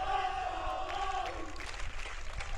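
College tennis player lets out a loud roar toward the crowd at an NCAA Tournament Super Regional match, a sustained shout set over steady crowd noise and cheering.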